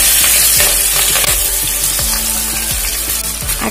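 Chopped onion hits hot oil already seasoned with cinnamon, green cardamom and green chillies for Bengali katla fish kalia, a loud, close, continuous hiss with scattered crackles and stirring scrapes, no voices.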